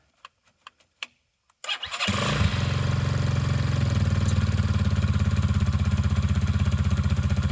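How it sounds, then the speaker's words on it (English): Carbureted dual sport motorcycle engine cranks after a few faint clicks and knocks, catches and settles into a steady, loud, close idle that runs unbroken to the end. "These carbureted bikes, you gotta let them sit here and run for a little while."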